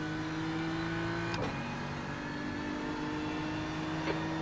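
GT3 race car engine at Spa in iRacing, a steady droning engine note holding under throttle out of a chicane, with brief clicks near the start and end.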